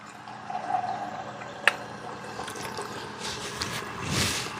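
Water pours into a glass in a home kitchen, a soft trickle and a few drips with a sharp clink partway through, followed by a brief rushing splash near the end.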